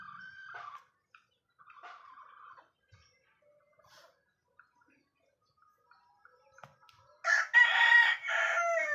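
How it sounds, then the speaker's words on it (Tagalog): Scattered faint clucks and calls from backyard chickens, then a loud rooster crow bursts in near the end, close and strident. "aking mga alagang manok."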